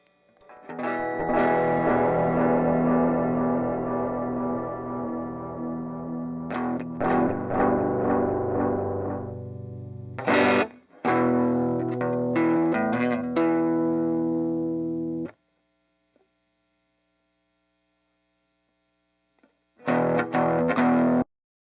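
Distorted electric guitar chords played through Apple MainStage ring out with heavy effects and long sustain, a few separate strums with pauses between, ending after a short silence.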